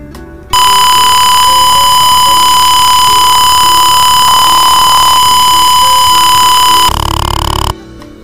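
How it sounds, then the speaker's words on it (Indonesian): A buzzer alarm in an Arduino Tinkercad gas leak warning simulation sounds as a continuous, piercing electronic tone, loud and steady for about seven seconds before stopping abruptly. "nah tadi buzzer berbunyi ya"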